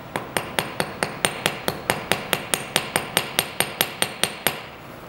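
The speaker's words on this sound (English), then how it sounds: "start to spread the end of that rivet with your rivet hammer" A rivet hammer strikes the end of a metal rivet in metalsmithing work, about twenty evenly spaced, sharp ringing taps close up at a steady quick rhythm, with no talking.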